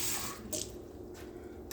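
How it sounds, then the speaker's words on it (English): Tap water running into a cooking pot for spaghetti sauce, a close, soft splashing stream with brief brighter gushes, fairly quiet and alone. "I'm going to add just a little bit of water."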